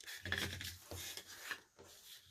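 Close, quiet rasping and scraping as strips of Readi-board foam core are cut with a blade, in a few uneven strokes with brief pauses, no talking.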